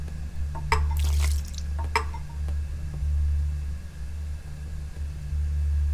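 Water poured in a video game puzzle, a couple of splashy pours and drips over a steady low electronic hum.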